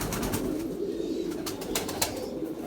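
Several pigeons coo in a steady overlapping murmur, close and continuous, with soft wing or body rustles.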